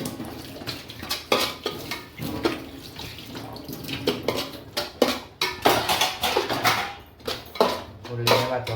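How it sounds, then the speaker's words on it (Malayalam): A green chili mixture is stirred in a pan, giving a steady series of clattering scrapes and knocks of a utensil against the metal, close and busy, with kitchen background noise throughout. "ഇതിൻ്റെ കളറ് മാറണം വരെ ഒന്ന് മിക്സ് ചെയ്ത് കൊടുക്കാം."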